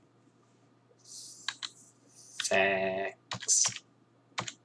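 Keys clack on a computer keyboard in short bursts, mixed with a man's loud, close voice while he enters a name in the horror game Spooky's Jump Scare Mansion.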